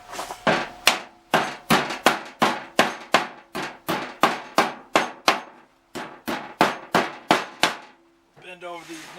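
Nails sticking out of wood get bent over with a hammer: a fast, loud series of sharp knocks in close rhythm, a short pause, a second burst, then a brief rattle.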